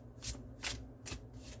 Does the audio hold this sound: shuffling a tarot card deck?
yes